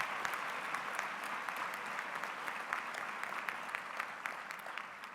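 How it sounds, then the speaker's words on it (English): A round of applause from the crowd at a university graduation ceremony, steady and moderately distant clapping that holds evenly throughout. "I want you to give a round of applause to Lizanne van der Merwe"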